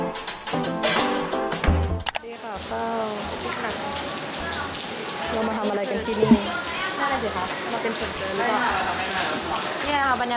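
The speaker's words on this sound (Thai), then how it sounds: "ตอนนี้คือฝนมันตกหนักมากๆเลยอะ่ะ" Heavy rain pours down in a steady, broad hiss that runs the whole time, while someone talks over it close by.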